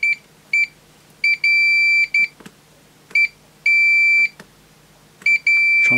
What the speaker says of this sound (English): It's just a beeper. Yeah, that's working now.